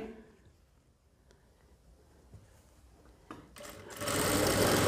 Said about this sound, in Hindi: यहाँ पर सिलाई लगाइए